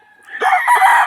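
A seven-month-old broodstag rooster crows once, a single loud, close call rising and holding for about a second without other voices.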